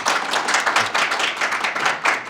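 An audience at a Korean AI seminar recapping NeurIPS 2022 claps to welcome a speaker, a dense burst of steady applause from many hands heard close and alone.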